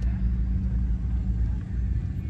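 Cars idle in a queue at a Honda car show, a steady low engine rumble that holds close and even throughout, with no voices over it.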